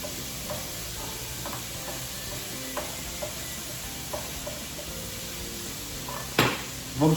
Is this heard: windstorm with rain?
no